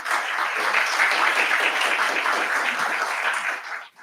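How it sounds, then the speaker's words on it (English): An audience at a fund relaunch event applauds, a dense, steady wash of many hands clapping for about four seconds before it quickly dies away. "And I think that deserves a round of applause."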